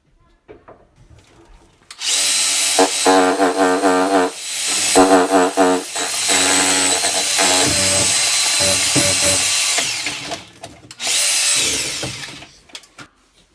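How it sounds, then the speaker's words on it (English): A power drill whines loudly in long bursts as it bores through a wall for a vent pipe, pausing briefly midway, with grinding and rattling as the bit cuts. "then we can drill from the outside inward for the vent pipe"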